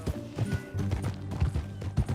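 Horse hooves clip-clop in a quick steady rhythm, close and fairly loud, over a low background drone, from the video game Red Dead Redemption 2.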